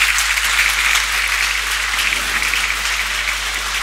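Spectators at a women's first-division handball match applauding steadily, a dense, even wash of clapping across the hall with a low constant hum underneath and no clear speech.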